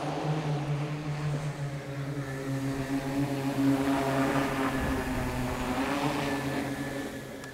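An eVTOL aircraft designed by MGI Engineering flies with a steady, fairly loud droning hum of layered tones that holds throughout, swelling slightly midway.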